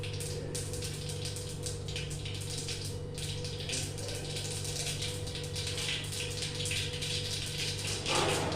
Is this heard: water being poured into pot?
yes